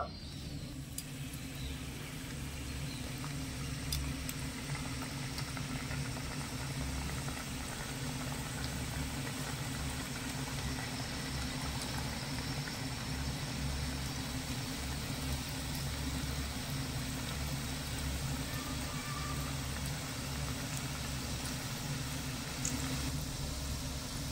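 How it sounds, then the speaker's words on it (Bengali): Potato pulis, a sweet pitha, frying in medium-hot oil: a faint, continuous bubbling sizzle over a steady low hum, even and unbroken throughout. "এখান থেকে একটা একটা করে পুলি নিয়ে তেলের মধ্যে ছেড়ে দেব"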